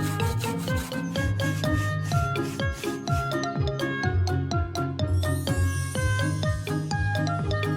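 A cartoon scrubbing effect plays as a car is washed: quick, rhythmic rubbing strokes repeat with bright, jingly tones laid over them, steady and close.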